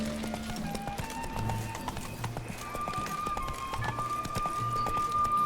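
Roach the horse gallops in The Witcher 3: Blood and Wine with a steady, close clip-clop of hooves. A brief whinny rises near the middle over quiet game ambience.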